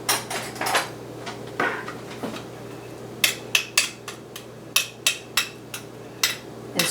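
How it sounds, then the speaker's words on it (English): A utensil scrapes and taps against the bottom of an Instant Pot's metal inner pot holding creamy poblano corn and chicken chowder, giving a run of sharp, close clinks and scrapes in quick irregular bursts, clearer and more regular in the second half. "scrape off the thing sticking to the bottom of it"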